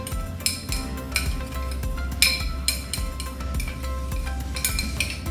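Spices and a teaspoon of sugar being mixed in a bowl, with a spoon or utensil clinking and scraping against the dish in light, irregular taps over a steady low background hum.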